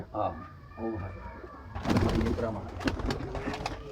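Sialkoti pigeons coo in a low, rolling pattern close by, with a black-faced female and a crossed male among the birds, while someone talks over much of it.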